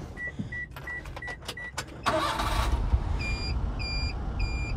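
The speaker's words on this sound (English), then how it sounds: "and I'll just start the engine" An orange Daihatsu Hijet mini dump truck, a Japanese mini truck with 14,000 kilometers, sounds a few warning chimes before its engine cranks and catches, settling into a steady close idle as the chimes keep repeating.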